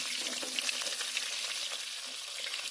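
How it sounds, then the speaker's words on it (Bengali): Cut pointed gourd (potol) frying in oil in a pan, a steady, even sizzle and crackle throughout with faint stirring clicks, close and without talk. "প্রথমে পটলগুলো একটু মিনিট দু থেকে তিনে ভালো করে ভেজে নিতে হবে"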